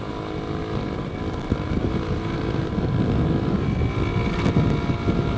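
A motorcycle fitted with a Shijiro Standard Racing exhaust idles and revs with a low, rumbling, harmonic drone, close and continuous with slight swells in loudness and a faint roughness.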